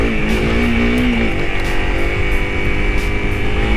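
A Honda CRF300L built as a supermoto motorcycle cruises down a street, its engine humming loud and steady with a brief rising note at the start.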